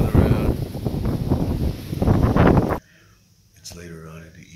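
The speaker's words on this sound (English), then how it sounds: "Got kind of windy out here." Strong wind buffets and roars across the microphone in gusts for a few seconds, then cuts off abruptly before a voice speaks.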